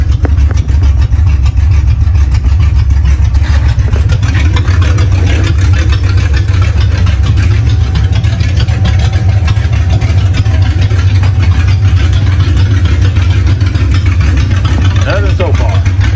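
A 1968 Mustang engine runs steadily close by with a low, even idle rumble and no clear revving, while the car sits jacked up and reverse gear is attempted.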